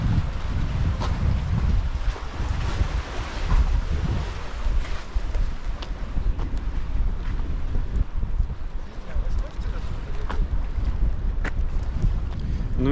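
Steady wind roars and buffets across the microphone throughout, with a constant broadband rush and low rumble, as if outdoors near water.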